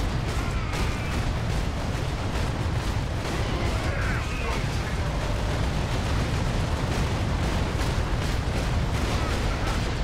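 Heavy autocannon fire from the video game Warhammer 40K: Space Marine, a dense, continuous barrage of loud booming shots with rumbling low end that holds steady throughout.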